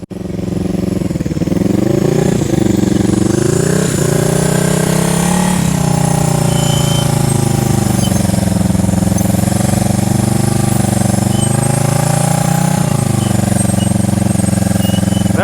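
A motorcycle ridden at slow speed in a riding skills practice session, engine held at a steady throttle with the rear brake applied, a loud, close, continuous drone with slight pitch wavers throughout.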